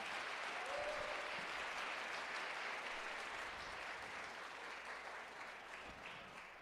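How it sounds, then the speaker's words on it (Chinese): A church congregation at a Sunday service applauding its youth, sustained steady clapping from a large crowd in a hall, fairly distant and even, slowly tapering toward the end. "我们再一次用一个掌声来鼓励他们。"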